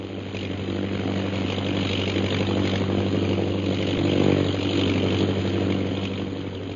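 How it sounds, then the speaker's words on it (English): A propeller plane circling over a camp in a radio drama, a steady, droning engine hum that swells slightly toward the middle and then eases, heard alone without talk. "The plane's circling the camp. It'll be over us again in a minute."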